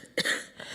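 A single short cough, close and fairly quiet, followed by a faint breath.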